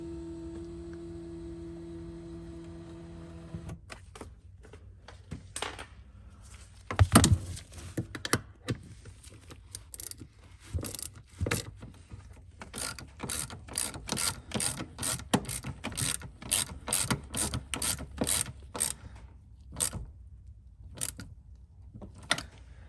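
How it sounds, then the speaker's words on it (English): A repaired BMW E90 power seat motor runs the seat forward and backward, making a faint whirring drive with clicks and ratcheting mechanical ticks that come in quick irregular bursts across a quiet car interior. "the seat's working great forward and backwards now, so you won't have any more issues with that"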